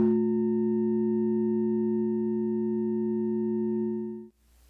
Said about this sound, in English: Okay, now this is gonna be the sound of the inner solar system.